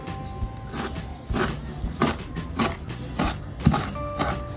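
Coriander seeds being dry-roasted in a pan give repeated bursts of scraping and rattling as a spoon stirs them. The strokes fall at a fairly regular rhythm, close by and fairly loud, with no speech.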